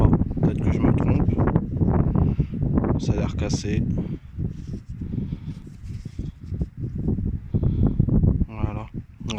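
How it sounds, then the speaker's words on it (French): Heavy gusts of strong wind buffet the microphone with low rumbling roar while someone talks over it throughout, outdoors during metal detecting. "désolé pour le vent. Il souffle très très fort."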